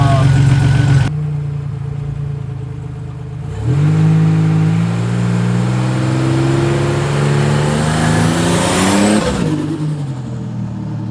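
A car engine labors after being cranked: a loud start, a brief drop, then the motor catches and runs unevenly before revving higher near the end, close and loud with no talk.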